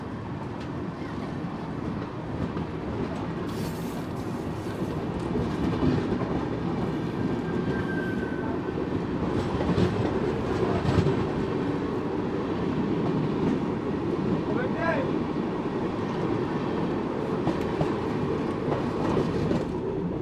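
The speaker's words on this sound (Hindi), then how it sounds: "बगल से दूसरी एक्सप्रेस ट्रेन को निकाला जा रहा है, ओवरटेक होने वाला है।" An express train at Morena station passes on the adjacent track with a steady rolling rumble and clickety-clack of wheels. It stays close and loud throughout, with brief squeals and a faint horn-like tone.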